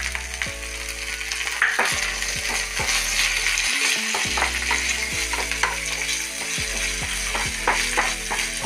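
Curry leaves fry in hot oil with a pinch of salt for a curry leaf pickle, giving a continuous, close sizzle and crackle with occasional stirring scrapes.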